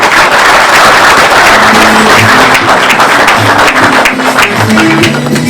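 Sustained applause from an audience at a garden inauguration ceremony in El Jadida, dense clapping filling the space at steady volume with a busy crowd background.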